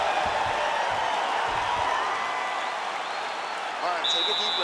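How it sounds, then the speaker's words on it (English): Arena crowd cheering and applauding steadily in the UFC 5 video game during a mixed martial arts bout, a dense continuous roar with a brief whistle-like tone near the end. "The crowd's going crazy because they appreciate high-level mixed martial arts"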